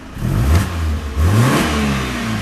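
A 2003 BMW 318i with a 1.8 litre engine revs up hard twice in quick succession, the note climbing and dropping back each time, loud and close, then settling into a steady higher hum.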